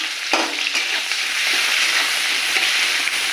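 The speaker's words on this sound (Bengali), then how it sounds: "দেখো, পেঁয়াজ দিয়ে দিলাম।" Chopped onion hits hot oil in a pan for a pointed gourd dish, a loud, close, continuous hiss and crackle of frying with a few stirring knocks.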